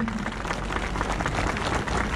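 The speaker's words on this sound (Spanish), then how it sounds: "quiero que todos le demos un aplauso de bienvenida" Welcoming applause from a gathered congregation for a visiting bishop on a pastoral visit in Chiscas, Colombia: dense, steady clapping that fills the whole stretch without a break.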